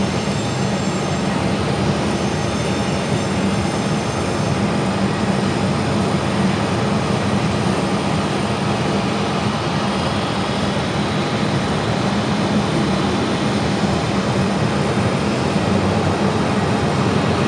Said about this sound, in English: WestJet 1740 coming in from Vancouver.